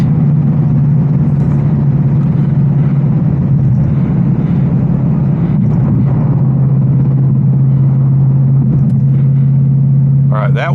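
An 810 hp RTR Mustang GT in sixth gear cruising steadily at 80 mph, its engine a constant deep drone with road rumble and faint cabin noise throughout.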